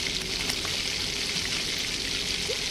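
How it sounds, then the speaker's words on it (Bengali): Chicken pieces sizzle in a pan as they are sautéed with spices, a steady hiss of frying throughout, close and moderately quiet, with no voices. "তো এখন আমি চিকেনগুলোকে ভালো করে মশলার সাথে কষিয়ে নিচ্ছি।"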